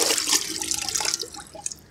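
Water splashing and trickling as a stone is dipped into water and lifted out during a wall and roof waterproofing chemical test, a close wet splash followed by light drips and dribbles.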